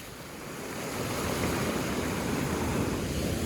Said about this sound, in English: I just wanted to show you guys these crazy beautiful waves